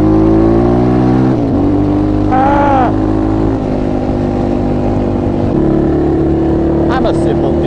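A quad ATV engine revs while being ridden, its loud drone rising and falling in pitch through shifts in throttle, with voices heard now and then over the steady engine noise.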